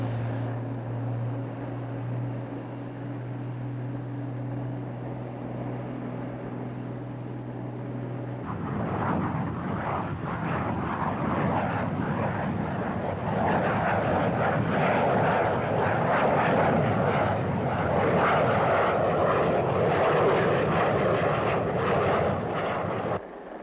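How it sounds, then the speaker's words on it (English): An F-4B jet on a straight-in approach and landing at Marine Cherry Point, its fire warning light on, roars steadily; after a lower droning engine tone the jet noise swells into a loud broadband rumble, with no speech. "F4B, straight in approach and landing runway 5."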